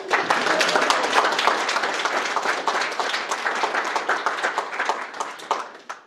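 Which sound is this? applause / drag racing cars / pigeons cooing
applause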